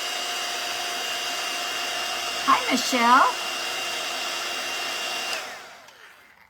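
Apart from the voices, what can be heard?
hair dryer drying a popsicle stick craft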